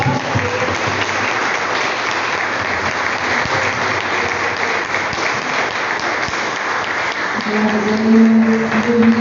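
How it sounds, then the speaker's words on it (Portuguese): A congregation at an evening church service gives a long, steady round of applause, a dense roar of clapping hands throughout, with a sustained tone or voice rising near the end. "Uma salva de palmas para o nosso Senhor Jesus."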